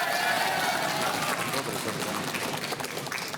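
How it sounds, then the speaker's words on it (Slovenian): Audience applause for the yellow team on a Slovenian quiz show, a dense steady wash of clapping with crowd noise, loud throughout and alone without talk. "En aplavz za rumene."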